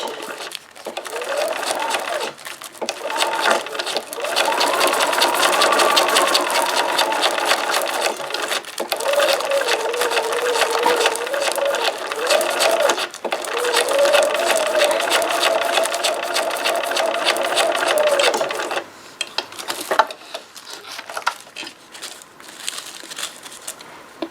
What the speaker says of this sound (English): we're going to put our stitches right along the edge, or at least close to the edge